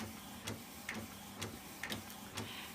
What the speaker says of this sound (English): my printer's starting to print